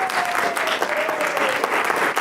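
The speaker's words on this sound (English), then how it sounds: "give it up for Inka, big round of applause" Audience applause at a Sydney urban conference on sharing cities, a steady, close-sounding round of clapping from a modest crowd with a faint tone running beneath it.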